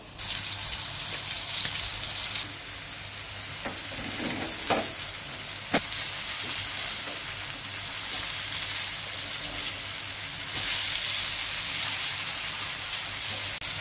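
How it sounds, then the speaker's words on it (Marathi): Bombay duck fish coated in rice flour fries loudly in hot oil over a high flame, a dense continuous sizzling hiss with a few sharper pops and spatters. "आपण फास्ट गॅसवर फ्राय करून घेऊया"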